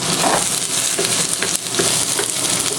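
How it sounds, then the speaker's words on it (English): Onions and peppers fry for fried rice on a hotplate, giving a loud, continuous close sizzle with faint stirring scrapes throughout. "After a few seconds of that cooking, you could just put in your onions and peppers at the same time."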